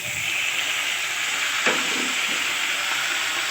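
Chicken coated with turmeric, black pepper and coriander powder is stirred in a pan. A loud, steady frying hiss runs throughout, with one brief scrape of the utensil midway.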